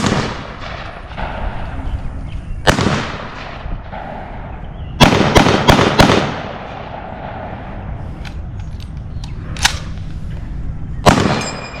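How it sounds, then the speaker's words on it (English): Several loud, sharp rifle shots from an M1 service rifle at a historical weapons firing demonstration, sounding at irregular intervals with echoing tails, including a quick cluster of cracks in the middle. "That's the M1 service rifle."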